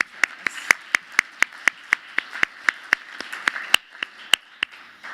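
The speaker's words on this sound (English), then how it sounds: "I'll give you a round of applause" A single pair of hands at an affordable housing innovation event claps in a steady, even rhythm of about twenty crisp claps, close and fairly loud, with no talking.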